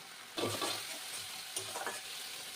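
Mature bean seeds fry in oil with tomato, chilli, mustard and poppy seeds, giving a steady close sizzle broken by a few scraping stirs of the pan.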